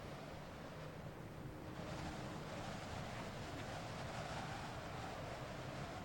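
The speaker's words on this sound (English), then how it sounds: "you can hear the wind. It's definitely a bit windy." Gusty wind blows across the outdoor scene in the video game Train Simulator 2019, on a Class 365 electric train run from London to Peterborough, a steady, full broadband rush that swells slightly after the first two seconds, with no talk.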